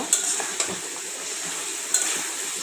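Flat beans and potatoes are stirred and fried in spice paste, a steady sizzle with a few sharp metallic clinks of the spoon against the pan.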